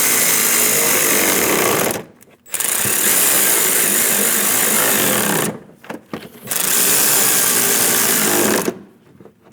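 Power ratchet snugging down bolts on a radiator fan shroud of a 2003-2026 Chevrolet Express 2500 4.8L van, three loud sustained buzzing runs separated by short pauses.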